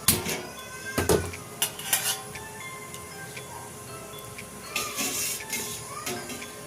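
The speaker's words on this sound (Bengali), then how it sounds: "এইভাবে নাড়াচাড়া করে আমি ফুটিয়ে নেব।" Milk being stirred in a pot on a lit gas stove while it heats for mishti doi, giving sparse metallic clinks and taps of a spoon against the pot over a faint background hum, with short quiet gaps between strokes.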